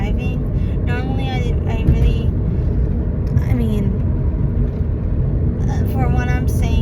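Steady car engine hum and road rumble fill the cabin while driving, constant and fairly loud, with a person talking over the drone.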